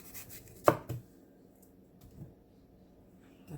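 A knife slicing watermelon into pieces, a couple of crisp chops close up in a quiet kitchen, followed by softer cutting sounds.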